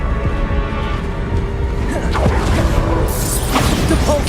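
Bombarda blasting spell going off in Hogwarts Legacy, a dense crashing burst with whooshing magical sweeps and debris clatter, loud and close, with no talking.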